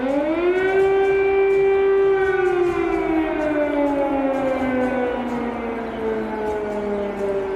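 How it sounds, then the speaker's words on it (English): An air raid siren wails across Kyiv, one long steady civil defense tone that slowly drops in pitch, loud and carrying, with no voices over it. "Sirens sound across Kiev for a second morning in a row as the threat of Russian air raids continues."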